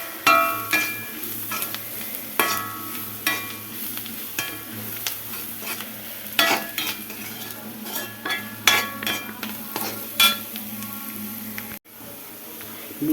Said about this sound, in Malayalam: നന്നായിട്ട് ഇളക്കി വഴറ്റി എടുക്കാം. അതിന് ശേഷം നമുക്ക് മീറ്റ് മസാലയും കൂടെ ചേർക്കണം.